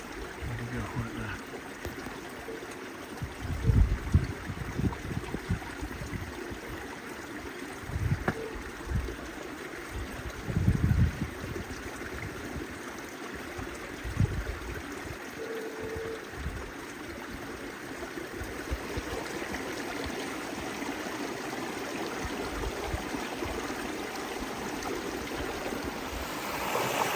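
A babbling mountain brook at Crater Lake in Oregon runs as a steady, close rushing wash of water, with occasional low thumps and rumbles from wind or handling and no clear talk over it.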